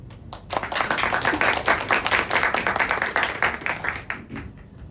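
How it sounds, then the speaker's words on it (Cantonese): An audience at a talk or training session clapping, dense steady applause that stays loud for about four seconds before thinning out. "好，俾掌聲，俾多次掌聲"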